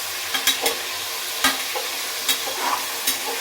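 Chopped tomatoes, three of them, being added to a frying pan for tomato rice bath and stirred, giving a soft sizzle with several sharp scraping clicks of the spoon against the pan, close up and without talk.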